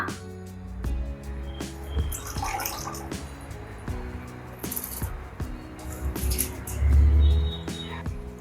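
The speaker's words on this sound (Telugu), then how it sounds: "ఇప్పుడు దీంట్లో నానబెట్టిన రైస్ వేస్తున్నా" Soaked rice tipped into water in a cooking pot for aloo biryani, heard as soft splashes and pouring rushes among scattered drips and clinks.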